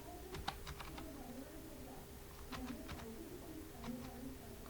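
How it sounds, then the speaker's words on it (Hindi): Someone types on a computer keyboard in soft, quick clusters of clicks, faint over a steady room hiss. "हम यहाँ पर टाइप करते हैं इक्वल्स टू लुकअप"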